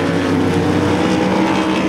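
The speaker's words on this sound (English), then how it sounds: "Heat race number 3, third and final heat race for your IMCA Race Saver Sprint cars." IMCA RaceSaver sprint cars at Devils Bowl Speedway run a dirt-track heat race, a steady loud engine roar droning without a break, close and continuous throughout.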